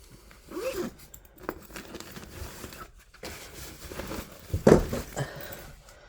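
A zipper on a backpack case is pulled open in short scraping bursts, close by, with a louder rasping pull near the end and light handling noise around it.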